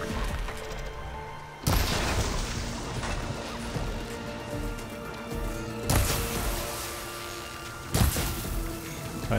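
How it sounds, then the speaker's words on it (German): Enemy machines fire heavy shots in Horizon Forbidden West: loud, crashing bursts of game gunfire with sharp blasts near 2, 6 and 8 seconds over a continuous rumbling backdrop of combat noise. "Aber die Schüsse, die sie machen, sind heftig."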